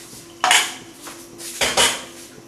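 Bitter leaf soup with crayfish and seasoning stirred in a metal pot, a few sharp clanks and scrapes of the spoon against the pot, close by with brief pauses between strokes.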